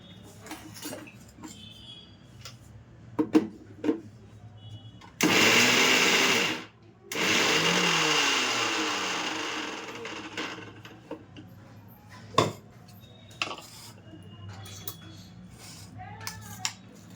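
A kitchen mixer grinds green peas, garlic, ginger and chili into a paste in two loud, close, steady whirring runs separated by a short pause, set between clinks of utensils and jar.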